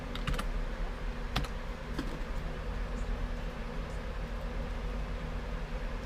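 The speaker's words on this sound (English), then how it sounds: "change this to item, and we type in the word moose" Keystrokes on a computer keyboard as an item name is entered into an eBay inventory listing, a steady patter of soft clicks over a constant low room hum, with no talking.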